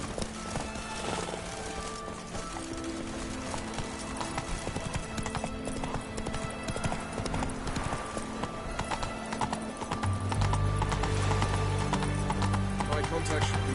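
A horse gallops in the Witcher 3 video game with rapid, steady clip-clop hoofbeats and occasional whinnies, a voice talking over them and heavier low rumble near the end.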